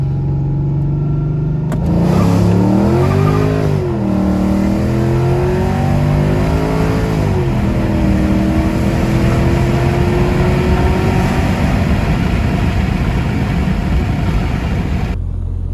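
A Mercedes E55 AMG with newly installed headers revs hard on a short pull. The engine note climbs and wavers in loud, close surges, then settles into a sustained rising drone before cutting off.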